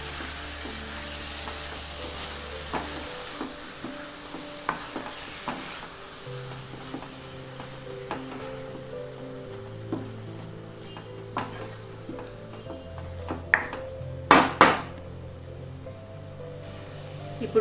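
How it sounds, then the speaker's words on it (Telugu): Chopped spinach fries and sizzles in a pan while being stirred, a constant hiss broken by scraping strokes and a few sharp clinks of the utensil against the pan near the end. "ఒకసారి బాగా మిక్స్ చేసుకోవాలి."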